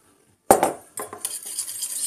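A spoon scrapes and clinks in a dish, mixing sour cream and tomato dressing for stuffed zucchini and peppers: a sharp first knock, then quick scraping strokes, close and fairly loud.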